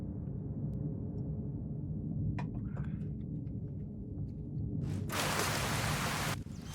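Steady rain hiss in Fallout New Vegas over a low constant rumble, with a loud broadband rush of heavier downpour swelling in near the end before cutting off.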